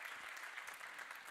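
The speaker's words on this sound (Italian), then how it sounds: "te ne rifacciamo un altro di applauso" Audience at an evening cycling celebration applauding steadily, dense even clapping throughout a brief moment.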